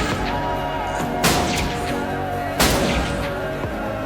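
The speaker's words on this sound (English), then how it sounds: "I grabbed the gun and started firing wildly at him." Two loud gunshots crack out about a second and a half apart in a movie scene, standing out over a dense, continuous backdrop of music and effects.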